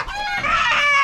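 A brief, close call from a rooster among chickens, a rising harmonic crow-like squawk lasting about a second.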